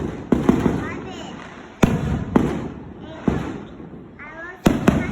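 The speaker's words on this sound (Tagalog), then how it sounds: "There's fireworks outside there." Fireworks bursting outside, several sharp loud bangs spaced a second or so apart with crackling tails, while excited voices chatter between and over the blasts.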